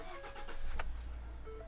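A 2014 Ford F-150 XLT 4x4 pickup with about 182,000 miles starts up: a brief whir of the starter, a sharp catch as the engine fires, then a steady low rumble. The sound is fairly close.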